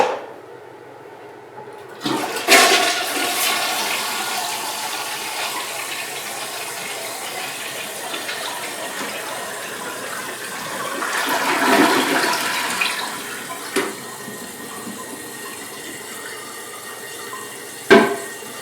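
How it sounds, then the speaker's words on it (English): A household toilet is flushed after a leak repair, its rush of water swelling up near and loud around the middle and draining away, with short knocks from the tank before and after. "You want to give it a flush."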